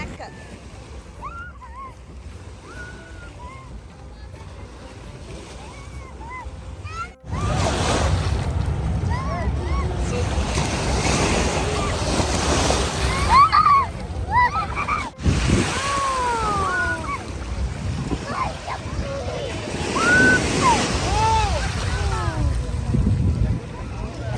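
Ocean waves and surf at a beach roll in steadily, growing louder and rougher partway through, with wind buffeting the microphone and people talking over the water.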